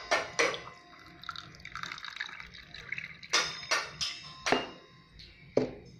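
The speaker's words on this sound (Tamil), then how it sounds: "நான் வந்து ஆரஞ்சு ஜூஸ் ஆட் பண்ணுறேன்" Orange juice poured into a glass, heard close as a run of liquid splashing and trickling with several sharp drip-like plinks and clinks spaced through it.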